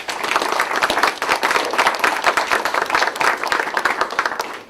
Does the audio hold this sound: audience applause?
yes